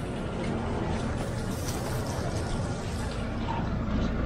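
Floodwater from typhoon Ulysses flooding in Sta. Ana, Taguig, with a steady, continuous wash of sloshing, pouring water close by throughout, no voices.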